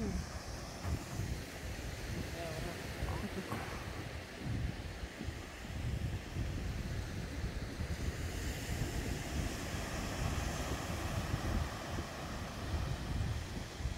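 Waves at Radical Bay on Magnetic Island break and wash continuously on the beach, forming a steady, fairly faint roar of surf mixed with wind rushing across the microphone. No one speaks.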